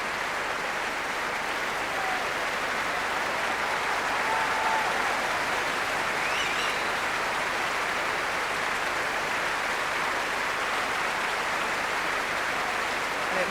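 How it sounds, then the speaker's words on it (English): An audience at the BBC Proms applauds the National Youth Orchestra with dense, sustained clapping that stays steady throughout. "having received a well-deserved round of applause from this very happy audience"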